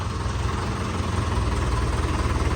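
A tractor engine idles steadily and close by, a continuous low rumble with faint vibration and no voices.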